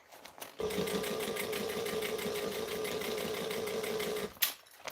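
A sewing machine stitches piping cord at a slow, steady pace, a continuous close mechanical whirring hum lasting about four seconds before stopping with a brief clunk.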